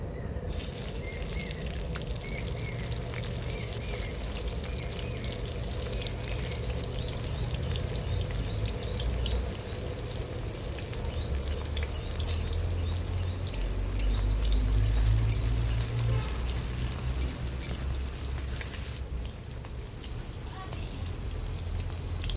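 Onion dropped into hot oil tempered with bay leaf, giving a steady, close broadband sizzle that runs unbroken for over twenty seconds and swells slightly midway before easing.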